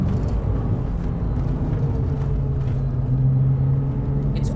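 A 2001 Porsche 911 996 Turbo twin-turbo engine pulls hard on boost in third gear, a loud continuous low rumble with a rising tonal note building through the run; no talking.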